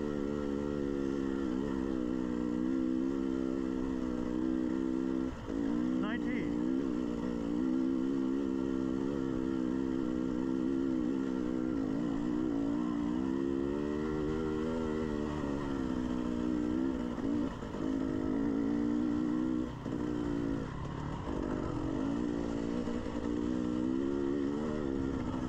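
An off-road vehicle engine on a long Hatfield-McCoy trail climb at Bearwallow roars steadily and close throughout, its tone rising and shifting as it pulls uphill under load, with no talk.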